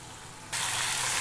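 Pepper chicken frying in hot oil, a steady close sizzle that suddenly jumps louder and brighter partway through as a splash of water hits the pan, with no talk.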